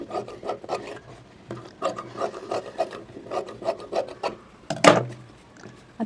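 Scissors trim the excess fabric from a prince cut blouse piece, giving a close series of crisp, rasping snips in an uneven rhythm, with one louder, longer cut near the end.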